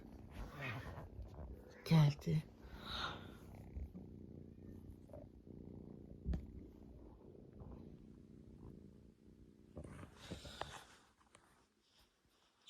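A cat at home cries and purrs close by, with soft rumbling and short louder calls as a person talks quietly over it.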